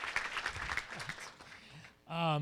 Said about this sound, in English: a big round of applause for the IFYC staff that's worked super, super hard on this